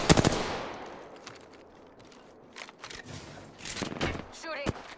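Apex Legends gunfire opens with a loud burst of close shots, then lighter scattered cracks and distant rattling bursts continue, with a voice briefly speaking near the end.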